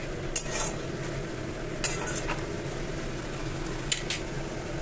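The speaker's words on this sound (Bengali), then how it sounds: "অল্প অল্প গরম জল দিয়ে কষিয়ে যাচ্ছি।" Stingray curry masala with tomato, ginger and garlic stir-fried in a pan with splashes of hot water, a soft steady sizzle broken by a few scraping strokes of a spatula against the metal, no voices.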